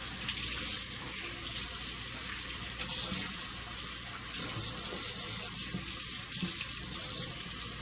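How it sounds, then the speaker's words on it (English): Salt mackerel is rinsed under a running kitchen tap, a steady close splash of water into a sink with small shifts as the fish is handled. "so give it another wash"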